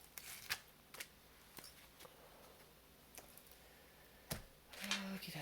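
Tarot cards are shuffled and drawn up close in a quiet room, with a few soft, scattered flicks and snaps spread apart, then a brief rustle near the end.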